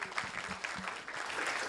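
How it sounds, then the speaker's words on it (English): A crowd applauds at a telecom technology conference, dense scattered clapping at moderate volume, heard from within the room. "Let's give a big ClueCon round of applause to Jonathan Rosenberg."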